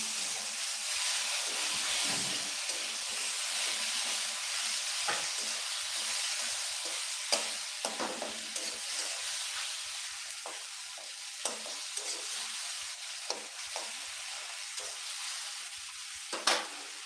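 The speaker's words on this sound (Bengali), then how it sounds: "এরপর টমেটোটা ভেজে নেবো" Tomato fries in hot oil with bay leaves and turmeric for a vegetarian chhana kofta curry, a steady close sizzle broken by occasional sharp clinks of a stirring utensil.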